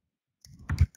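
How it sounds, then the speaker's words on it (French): A few quick computer keyboard clicks in a short cluster, close and distinct against silence, during a remote meeting. "j'entends un clavier qui bouge"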